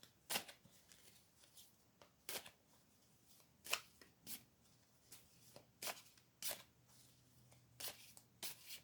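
Cards are shuffled in quick riffling bursts, a dozen or so crisp flutters spaced irregularly, close and fairly quiet with no talking.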